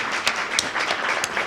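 A short burst of applause at a documentary program graduation ceremony, brisk scattered claps from the audience at moderate loudness.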